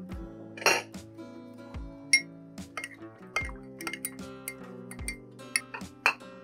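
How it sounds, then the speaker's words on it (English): Metal utensils and a strainer clink and tap against a glass or cup while ginger is strained, a series of sharp, scattered clinks close up in a quiet room. "Now I will get the ginger with the help of a strainer."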